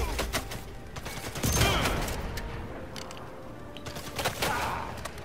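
Gunfire in a video game rings out in a burst of sharp crackling shots, scattered through a busy, noisy mix of game sound, loudest around the middle and again near the end.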